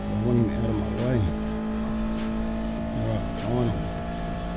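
A race car engine in a racing video game on the Nürburgring GP circuit, with a steady engine drone and a few rising rev swells, under a player's voice talking.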